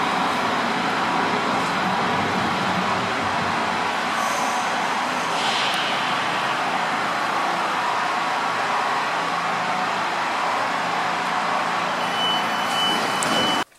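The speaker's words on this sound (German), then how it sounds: "Wir beobachten hier gerade eine Einfahrt auf Gleis 4" An S-Bahn train pulls into platform 4 at Wiesbaden Hauptbahnhof, giving a steady, loud rumble and rush of wheels and motors that holds for the whole stretch before cutting off abruptly, with a brief high squeal partway through.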